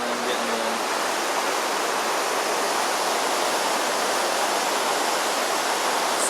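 Steady, loud rush of a waterfall in the Cascades along the Pacific Crest Trail, a dense unbroken roar of falling water filling the whole clip with no pauses.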